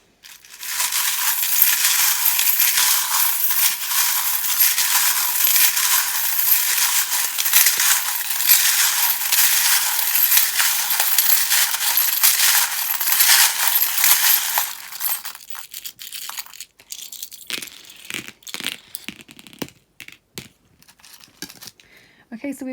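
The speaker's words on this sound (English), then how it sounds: "if you think you won't like the sound of the charms, please do that now. They can be quite loud." Tarot reading charms tumble and rattle onto a surface in a loud, dense burst of metallic clinking and crinkling for about fifteen seconds, then thin out into scattered small clicks and taps.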